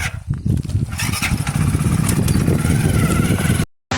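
A motorcycle engine idling and revving close by, a loud rough low rumble that runs steadily before cutting out near the end.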